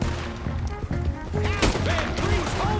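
Gunfire in Red Dead Redemption 2 during a shootout, with sharp shots and booming cracks, some close and some more distant, mixed with shouting and game voices, a brief lull near the middle before heavier firing resumes.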